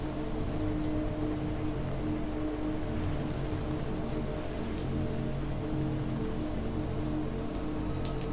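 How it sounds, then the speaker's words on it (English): Steady rain falling at night, a dense constant hiss of drops on surfaces with no pauses, moderately loud and even throughout. "It was raining again."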